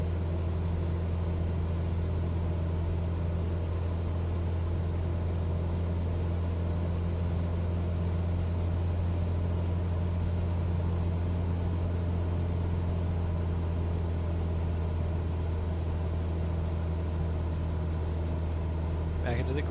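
A light aircraft piston engine holds a 2400 RPM cruise in Microsoft Flight Simulator, a steady, even droning hum that stays constant while someone speaks over it.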